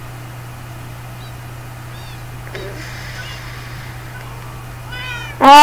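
A cat meows in Minecraft on the PS3 Edition, a few faint, distant mews over a steady low hum, ending in one loud, close meow at the very end.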